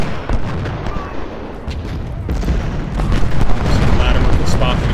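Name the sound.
cannon artillery fire in the video game Ultimate General Civil War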